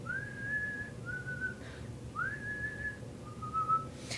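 Someone whistles a short tune in four clear sustained phrases, each rising slightly then holding, with brief pauses between them over a faint, quiet background.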